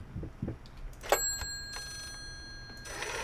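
In the horror game Layers of Fear, a telephone rings in short trilling bursts, one sharp ring followed later by another, set against dark low ambience.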